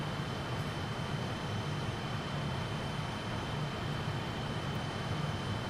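Simulated Fokker F28 jet airliner in Microsoft Flight Simulator 2020 cruising near Dallas-Fort Worth, a steady, even engine roar and cabin hum with a faint high whine, unbroken and without voices.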